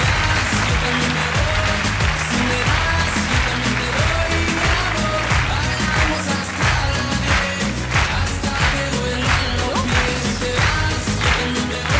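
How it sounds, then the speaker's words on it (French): Studio audience applause on a live French television show, loud continuous clapping with rhythmic bursts and background music underneath, lasting the whole stretch. "applaudissements pour ça"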